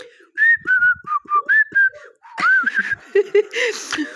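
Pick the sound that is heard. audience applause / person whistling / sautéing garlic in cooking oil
person whistling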